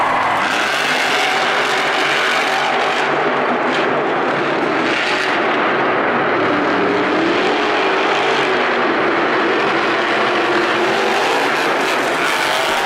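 Monster Jam monster truck Black Pearl racing in an arena, a loud continuous engine roar with revving swells and a dense crowd and arena wash, no clear talk.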